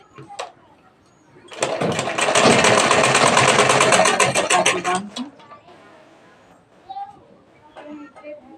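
A sewing machine stitching a blouse sleeve runs in one steady, loud burst of about three and a half seconds, with quiet handling sounds and a voice speaking briefly before and after.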